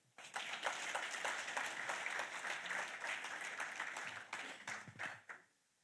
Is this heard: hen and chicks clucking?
no